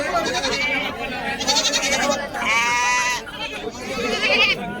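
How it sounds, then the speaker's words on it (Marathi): Sheep at a crowded livestock market in Kashti bleat several times in close succession, loud and near, over a constant din of crowd noise and talk. "या क्वालिटीमध्ये या ठिकाणी मेंढ्या."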